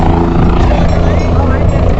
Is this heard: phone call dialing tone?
no